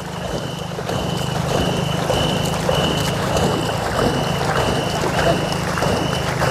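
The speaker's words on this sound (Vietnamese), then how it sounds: "Mỗi lần tăng tốc thì chúng ta thấy không, sóng nước có thể nói là tung té luôn." A ghe ngo racing boat powers across the water, a constant rushing wash of spray and wind noise filling the clip with a faint regular beeping or rhythmic tone running through it; no clear talk.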